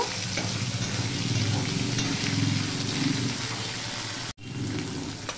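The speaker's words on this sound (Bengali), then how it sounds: "আদাটা দিয়েও আমি ভালো করে মিশিয়ে নিয়ে ভেজে নেব।" Ginger with banana stem and potato frying in a pan, a steady close sizzle stirred through with soft scrapes, cutting off abruptly near the end before resuming more quietly.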